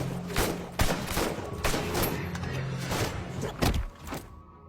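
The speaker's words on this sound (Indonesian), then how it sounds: "Sempat terjadi baku tembak sampai pada akhirnya Max berhasil dilumpuhkan oleh si ajudan." Gunfire rings out during a film shootout, with shots cracking repeatedly and irregularly over a dense, low rumbling backdrop until the sound drops away at the end.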